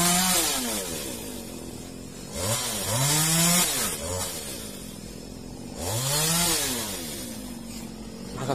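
A chainsaw cutting a nacre tree revs up in two strong bursts, rising and falling in pitch between quieter idling stretches, fairly close by.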